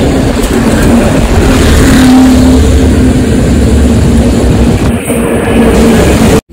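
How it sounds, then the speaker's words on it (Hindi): Heavy road traffic on a London street, a loud, continuous roar of passing cars and engines close by, then abruptly cut off at the end. "ट्रैफिक बहुत है।"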